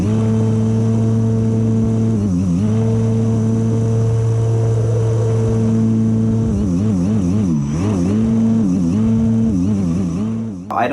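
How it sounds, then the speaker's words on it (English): A scratchbuilt five-motor RC plane's motor whines loud and close in flight, its pitch wavering and dipping repeatedly as it sputters and cuts out, then surges back before dropping away near the end. "it records the sound of it cutting out really well"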